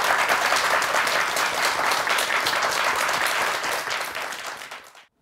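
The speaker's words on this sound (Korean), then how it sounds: "오윤성 경찰 행정학과 교수님께 감사 박수 부탁드리겠습니다" A studio audience breaks into loud, dense applause for a guest professor, many hands clapping close and steady before fading out quickly.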